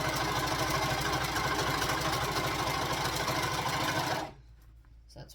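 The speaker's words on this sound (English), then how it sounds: "And then I'm going to chain stitch each one of those." Overlocker running steadily at speed as it chain stitches knit fabric, a rapid continuous mechanical hum with fast needle rhythm, close and loud, stopping abruptly near the end with quiet after.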